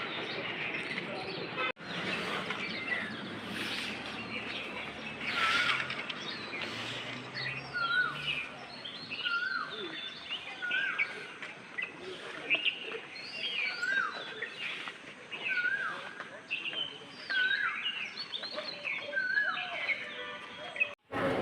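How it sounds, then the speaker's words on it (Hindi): Koel calls and a chorus of other birds chirp and sing steadily through an early-morning scene in Pabna, Bangladesh, with repeated bright whistled phrases over a continuous bed of birdsong and a low background hum. "कोयल की चहचहाहट भी सुनाई दे रही है और परिंदों की आवाज़ें बड़ी प्यारी लग रही हैं"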